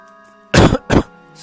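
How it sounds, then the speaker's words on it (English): Two short harsh coughs or throat-clearing bursts close to the microphone, the second slightly shorter, from a man playing Resident Evil Director's Cut while ill, with quiet game music humming underneath. "Sorry if I keep coughing."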